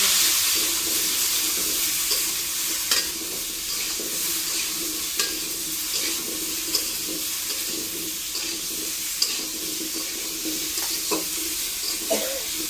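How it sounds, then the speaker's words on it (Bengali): Potatoes seasoned with turmeric and salt are stirred in a hot pan, a steady sizzle of frying under scattered scrapes and taps of a spoon, close and continuous. "এখন একটু নেড়ে দেব।"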